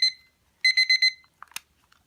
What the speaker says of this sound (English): This will definitely wake you up.